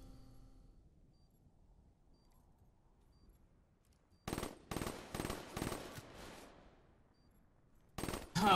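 Automatic gunfire in the video game Black Ops 3 erupts in rapid loud bursts after a quiet stretch, then a final short burst near the end.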